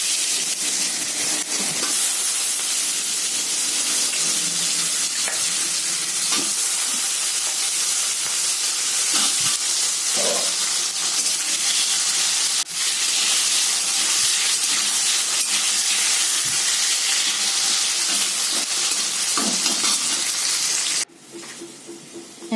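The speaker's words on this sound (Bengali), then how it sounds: "এই তেলের মধ্যে কিছুটা নুন দিয়ে আলুটাকে ভেজে নেব" Potatoes frying with salt in hot oil give a steady, loud sizzling hiss that runs without a break for over twenty seconds, with a few faint clinks, then drops off sharply near the end.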